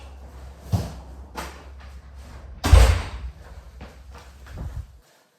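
A house front door is opened and later shut for a delivery, with a thud of the latch, a louder bang of the door closing and a few softer knocks and shuffles between, then silence.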